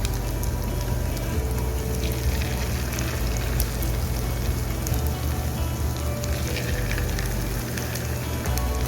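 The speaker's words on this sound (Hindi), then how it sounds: "हमने चिप्स ऑयल में ऐड कर दी है।" French fries frying in hot oil, a continuous dense sizzle and crackle that stays loud and even from start to finish with no voices.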